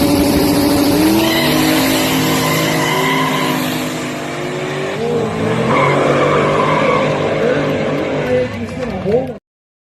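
Race cars at a short-track event spin their tires with a loud, sustained screech and roaring engines, the skidding howl rising and falling before cutting off abruptly near the end.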